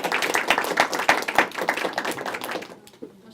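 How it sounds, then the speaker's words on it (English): A smallish gathering claps for a chef who has come to speak, distinct individual hand claps ringing out in an uneven patter that thins and fades out near the end. "So can we give a round of applause for Chef Fahmi?"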